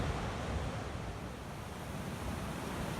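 Ocean surf roars steadily on a beach at False Cape State Park, Virginia: a dense, continuous wash of breaking waves with no pauses, loud and close, with no voices.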